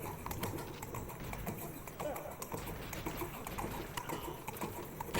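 Horse hooves clip-clopping in a video game, a fast dense patter of hoofbeats under game noise with a voice talking over it.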